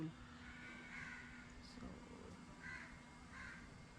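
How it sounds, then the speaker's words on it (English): Faint crow caws drift in from birds visiting a house's swimming pool. There are a few brief calls spaced apart over a low, steady background hum, and a voice briefly begins speaking. "birds feel safe enough to come to our pool"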